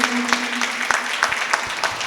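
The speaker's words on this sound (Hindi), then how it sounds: "तालियां बजाइए।" Audience applause at a Jain religious sermon by Aryika Swastibhushan, a dense patter of claps with a faint tonal hum underneath, moderately loud and steady throughout.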